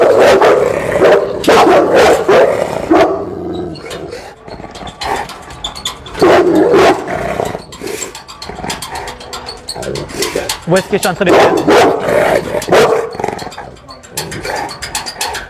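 Simba, a dog, barks and growls in rough bursts while someone talks nearby, the barking loud and close at first, then easing into lower rumbling growls under the speech.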